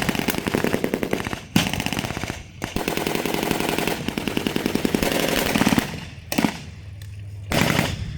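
Sustained machine-gun cover fire, dense rapid bursts of automatic shots with brief pauses between strings, loud and continuous.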